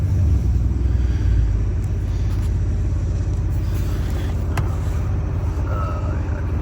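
A Chrysler car turning around, its engine giving a loud, steady low rumble up close with faint mechanical clicks above it.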